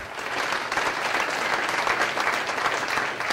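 Audience applause at a 2006 lung function benefit event, greeting the 2005 CFL Coach of the Year; a dense, steady clapping of many hands from a large crowd, sustained throughout.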